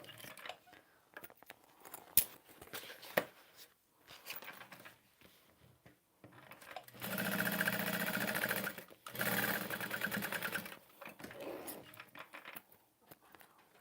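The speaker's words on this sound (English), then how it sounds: "I'm gonna go ahead and baste it down." Sewing machine basting down fabric for a bag, running in two steady bursts of several seconds each, close and fairly loud, with quieter handling sounds and brief talk around them.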